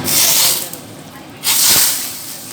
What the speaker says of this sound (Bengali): ফোড়নটা রেডি হয়ে গেল এবার ফোড়নটা দিয়ে দেব কাঁকড়া